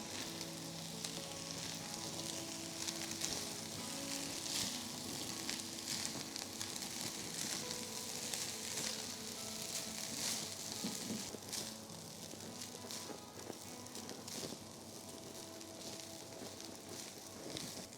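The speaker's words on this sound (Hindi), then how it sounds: "तो बहुत अच्छी तरह 3 से 4 मिनट तक हमने टॉस किया राइस को सारे सॉसेस और वेजिटेबल्स के साथ" Schezwan fried rice with chicken, sauces and vegetables is stir-fried and tossed in a hot pan, making a steady, dense sizzle with soft scraping that runs continuously and without talk.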